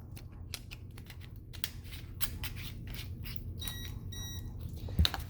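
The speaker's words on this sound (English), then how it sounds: "when you put the battery in, it beeps twice to let you know the battery is installed properly" A Klein Tools NCVT-5A non-contact voltage tester gives two short, high-pitched electronic beeps after its battery is installed, faint and close, over a quiet background of small clicks and handling noise.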